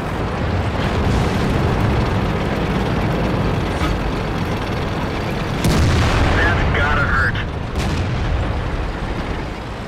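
In World of Tanks on the Fjord map, an IS-2 tank cannon fires and hits a Panther, a heavy boom cutting through a constant rumbling engine and battle din, with one sharp blast standing out midway.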